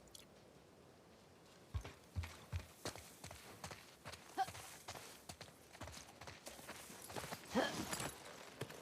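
Horse hooves clopping in The Last of Us Part II, a run of distinct, fairly close hoof strikes at an uneven walking pace over a quiet background.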